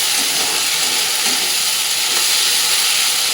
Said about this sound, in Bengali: এক চামচ মতো আদা রসুন বাটা দিয়ে দিল এবার এগুলো সব কিছু ভাজা ভাজা করে নেব